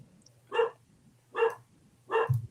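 Several dogs barking indoors, three loud, evenly spaced barks about a second apart over a low steady hum.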